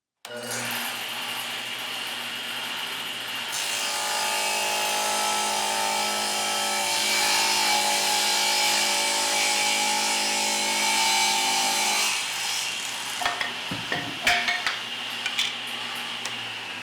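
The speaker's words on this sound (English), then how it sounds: "I'll start with the table saw." A table saw runs at a steady, loud whine, probably powered from an EG4 12KPV inverter with a wall-mount battery. The tone deepens as the blade cuts, then the motor winds down and clunks follow.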